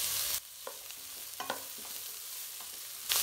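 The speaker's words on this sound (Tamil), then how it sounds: "இது ஒரு 2 to 3 நிமிஷம் நல்லா வதக்கிக்கிட்ட வருது." Vegetables with capsicum sautéing in a pan for Maggi veg noodles, a steady close sizzle with occasional spatula taps and stirs, briefly muffled partway through, no talking.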